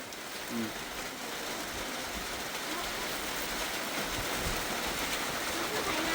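Steady rain falls around a small hut in the rice fields, a continuous broadband hiss that stays even and close throughout.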